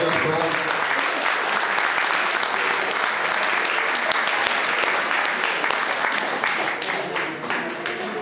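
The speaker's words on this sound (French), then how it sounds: "je pense qu'on peut l'applaudir bien fort" An audience at a 2016 convention speed-coding contest applauds, a dense, steady wash of many hands clapping that holds for about eight seconds and eases only slightly near the end, with faint voices mixed in.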